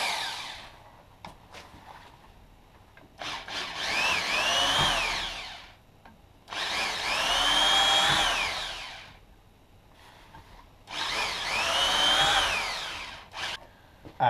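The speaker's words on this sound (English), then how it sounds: "Drill the board through. This is the electric drill." An electric drill bores through a board in three loud whining bursts, each a couple of seconds long, separated by quieter gaps with faint workshop noise.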